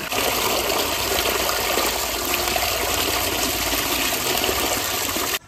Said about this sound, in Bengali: মাংস ধোয়া হচ্ছে, যে চিকেন পকোড়াটা তৈরি হবে সেই চিকেনটা ধুচ্ছে। জলের খুব স্পিড।